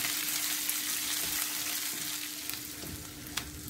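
Sliced onions and green chilies sauté in hot oil in a pan, giving a continuous close sizzle with a few light stirring ticks and no talking.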